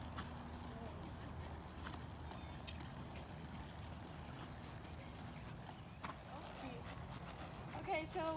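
A horse trots under a rider, with a steady two-beat clip-clop of hooves on the ground. A voice talks over the hoofbeats throughout.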